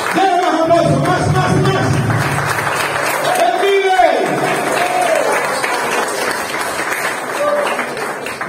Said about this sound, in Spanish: Denle más aplauso, más